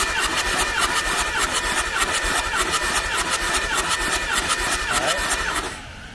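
A diesel engine cranks on the starter with its glow plugs removed for a compression test, making a steady, fast, rhythmic churning whir for about six seconds before it stops, loud and near.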